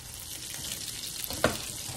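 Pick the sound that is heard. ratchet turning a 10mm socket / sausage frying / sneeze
sausage frying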